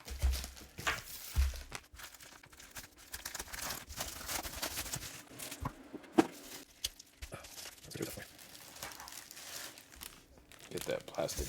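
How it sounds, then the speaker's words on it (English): Plastic bag and packaging around a comic book mail order being unwrapped, a continuous close crinkling and rustling with occasional sharper crunches, steady throughout with no voice. "Get that plastic bag out of here"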